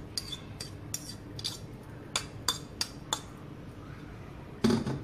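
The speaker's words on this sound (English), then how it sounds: "Mix your cucumber and the beans carrot together." A cucumber, bean sprout and carrot salad is tossed in a bowl, producing a string of bright clinks and taps, spaced unevenly with a louder clatter near the end, fairly quiet and close with no speech.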